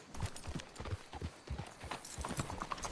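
Horse hooves clip-clopping in the Western video game Red Dead Redemption 2, a quiet, steady walking rhythm of distinct knocks repeating throughout.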